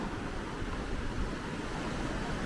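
Waves on Lake Michigan during a boat trip from Saugatuck to South Haven, heard as a constant broad wash of water and wind with no distinct breaks.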